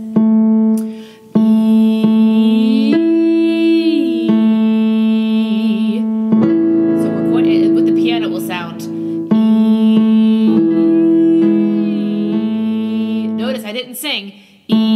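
A single singer's voice sustains notes and glides smoothly in pitch from high to low between them in a vocal warm-up slide, held tones with slides, close and loud, no other instruments.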